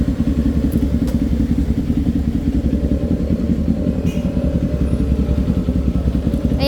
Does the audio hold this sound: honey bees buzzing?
no